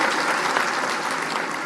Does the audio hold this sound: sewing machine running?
no